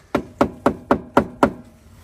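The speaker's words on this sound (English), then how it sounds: "because all your fresh mandarins, for example, they look very good and they sound like this" Frozen mandarins knocked together in a cold van in Finland, six sharp hard knocks at an even, steady rhythm, close and clear with quiet between hits.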